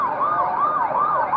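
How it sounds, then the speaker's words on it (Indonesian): An ambulance siren wails in a steady, rising and falling cycle on a city street, loud and close, with faint road traffic underneath and no talk. "Ambulan."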